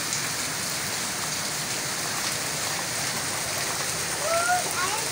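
Steady rain falling around a truck, a dense, even hiss that fills the whole clip with no pause, a few faint higher chirps appearing near the end.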